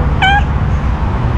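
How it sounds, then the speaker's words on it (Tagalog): A single cat gives one short, close meow in a cemetery, standing out briefly over a low steady background rumble. "Nagkalat ang mga pusa."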